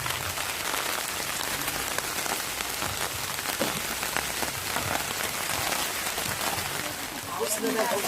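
Steady rain pours down outdoors at a barangay feeding program, a dense, even hiss of drops hitting surfaces that continues throughout with scattered sharper patters.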